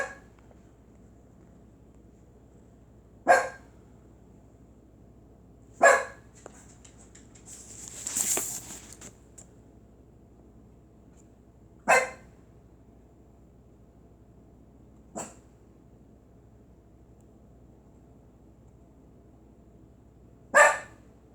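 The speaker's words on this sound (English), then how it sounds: "What are you barking at?" A lone dog gives single sharp barks every few seconds, separated by long quiet gaps over a faint steady hiss.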